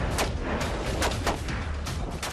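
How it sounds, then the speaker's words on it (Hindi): Machine gun bursts from Ukrainian border-defence soldiers at a firing drill on a coastal shore, with several sharp broadband reports spaced irregularly over a steady low rumble, loud and fairly close. "मशीन गन से गोलियां बरसाई।"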